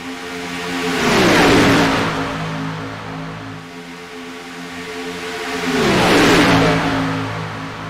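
Xfinity Series stock cars racing side by side in a sim racing league, engines swelling as they roar past twice, each pass rising to a loud whooshing peak and then fading off.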